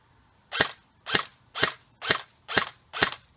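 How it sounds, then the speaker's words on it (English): A King Arms airsoft M4 fires on semi-auto, six sharp, evenly spaced shots about half a second apart, close and crisp, with no voices. "So put it into semi, we're going to shoot 10 rounds."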